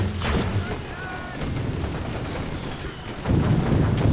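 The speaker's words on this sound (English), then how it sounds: "you can see those Germans are just getting ate up by those machine guns and everything" Machine gun fire in the video game Toy Soldiers, World War I Germans under attack, sounds as repeated bursts of rattling shots and booms, with someone talking over the action.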